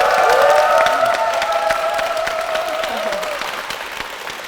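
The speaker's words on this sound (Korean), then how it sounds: "목사님과 교회를 위해서 다시 한번 큰 박수 부탁드리겠습니다" A church congregation gives loud, steady applause for its pastor and church, with sustained tones running underneath as the clapping gradually fades.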